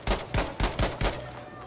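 Five sharp gunshots crack in a fairly even rhythm in the video game Battlefield V, loud and close, followed by a brief ringing tail.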